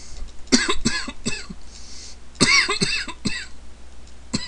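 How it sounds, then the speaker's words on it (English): A man coughs in a series of sharp, close bursts, a cluster of several quick coughs, a pause, then another cluster and a final single cough, with faint background hum and no talk. "Excuse my cough."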